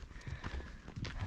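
Horse hooves clip-clop on an alpine riding trail strewn with droppings, a steady walking rhythm of close, distinct thuds with faint scuffs between them and no talking.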